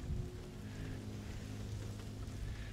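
Steady rain in the video game The Walking Dead: Saints and Sinners, a constant soft hiss of falling water with faint low rumbling and no voices.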